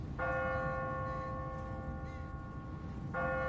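A church bell in a tower in The Walking Dead video game rings out two clear tolls, the first sustained and fading, the second near the end, over low background ambience.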